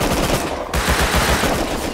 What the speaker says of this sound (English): Hey, shots to the north.